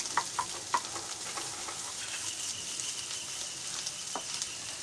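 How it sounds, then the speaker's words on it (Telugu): Ginger goes into a hot pan of restaurant-style egg fried rice, with a steady faint sizzle and a few light clicks and taps of a utensil early on, close and without talk. "ఇదిగోండి ఇప్పుడు నేను లాస్ట్కి 1/2 టేబుల్ స్పూన్ అల్లం వేసేస్తున్నాను ఈ టైంలో"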